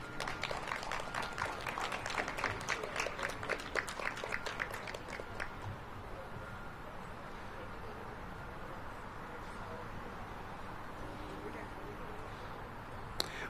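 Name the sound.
audience applause for grant recipients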